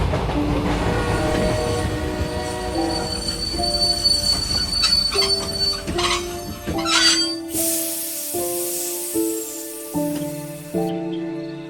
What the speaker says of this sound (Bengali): হঠাৎ ট্রেনটা হুইসেল দিয়ে দাঁড়িয়ে গেল